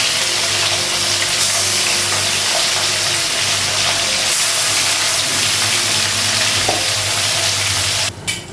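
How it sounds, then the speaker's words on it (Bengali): Fish fries in a pan with a loud, continuous sizzle and crackle, joined by occasional stirring scrapes, ending with a brief break and clatter. "মাছগুলো সব ভাজা হয়ে গেছে, গ্যাসটা কমানো"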